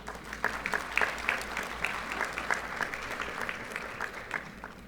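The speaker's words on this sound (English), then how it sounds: "We can just do one more round of applause for these students up here." A round of applause for students at a middle school luncheon: steady, dense clapping from a seated audience that carries on evenly for several seconds.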